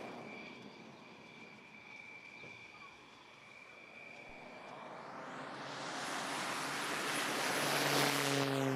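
A pair of two-seat T-6 propeller trainer aircraft take off at a Greek Independence Day military parade, engine roar building from a distant drone into a loud rising rush as they accelerate past, with an announcer talking in the background.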